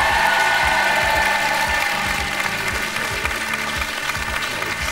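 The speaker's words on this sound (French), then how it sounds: "les applaudissements" TV studio audience applauding at a broadcast show, a dense, loud, continuous clapping wash over a low rhythmic thudding underneath, sustained across the whole stretch without talk.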